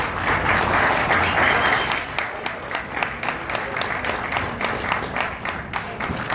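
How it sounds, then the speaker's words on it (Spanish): An audience applauds at a ceremony marking a second MAN bus for Centerbus in Cancún, dense clapping loud at first and easing slightly while continuing steadily, with scattered sharp individual claps standing out. "¡Venga el aplauso!"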